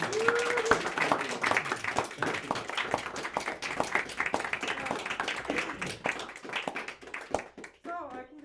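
Steady applause with scattered clapping from an audience, filling the whole stretch; a brief whistle-like tone rises near the start.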